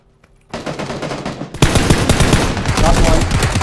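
Gunfire in PUBG. After a brief quiet start, sustained rapid automatic fire erupts close and loud, then grows even heavier into a dense, continuous barrage.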